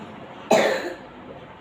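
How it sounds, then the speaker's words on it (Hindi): A child coughs once, sharply and close, during a doctor's examination for a cold, followed by a quieter breath and a faint sound at the end. "खांसी होता है मुंह से"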